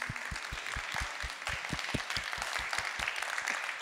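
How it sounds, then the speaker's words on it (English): A crowd applauds steadily for several seconds, many hands clapping in a dense, even patter with no voices. "Let's just give them a round of applause."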